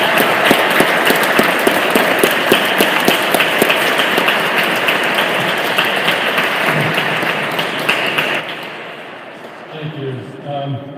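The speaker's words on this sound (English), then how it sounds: "let's give her a big round of applause" An audience at a Victims of Mao memorial event gives a strong round of applause, crisp individual claps standing out in the dense clapping, which dies away after about eight seconds as a speaker begins talking.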